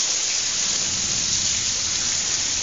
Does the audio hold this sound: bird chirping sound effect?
no